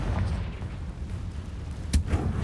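Confringo spell blasts in Hogwarts Legacy, low booming impacts with one sharp explosive burst near the end over a rumbling game soundscape.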